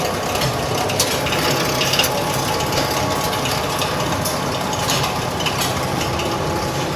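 A QLQ-DTM plastic zipper injection machine runs nearby, a continuous mechanical clatter of gears and ratcheting parts with a steady motor hum underneath.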